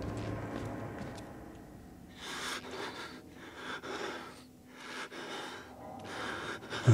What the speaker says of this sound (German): der fängt schon wieder an zu atmen